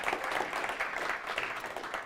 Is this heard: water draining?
no